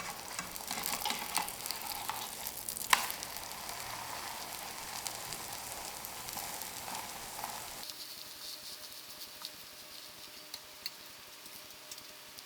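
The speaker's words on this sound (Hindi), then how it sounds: "इसी तरह एक एक करके आप सारे एग फ्राई कर दीजिएगा।" Eggs fry in a pan for keema baida roti, a steady crackling sizzle with scattered pops throughout, quieter and thinner after a change partway.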